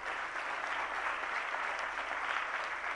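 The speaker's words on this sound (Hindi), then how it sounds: "जरा जोरदार तालियां बजाइएगा।" Sustained, dense applause from a large audience at a spiritual discourse in Agra, steady and even throughout with no gaps, the clapping filling the whole stretch at a moderate distance.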